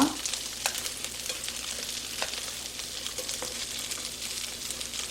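Twenty shrimp sizzle and fry in melted butter in a pan, a steady crackling hiss with occasional sharper pops, close and continuous throughout without any talking.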